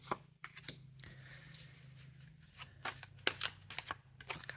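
Tarot cards are shuffled and drawn by hand, giving repeated soft riffling bursts and slaps at close range over a quiet low hum, with no talking.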